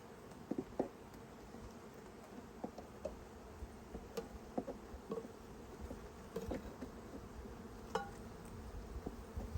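Honeybees from a package swarm buzzing steadily while a hive is set up, a dense continuous hum with occasional light ticks and knocks, close and without talk.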